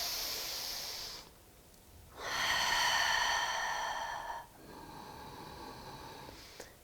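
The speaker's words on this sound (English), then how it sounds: "closing the eyes and continuously breathing in and out" Slow, deep breathing during a standing yoga pause with eyes closed: a long audible inhale, a quiet gap, then a steady exhale, close and moderately loud with no talking.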